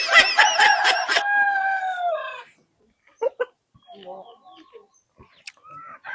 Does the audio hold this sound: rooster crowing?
yes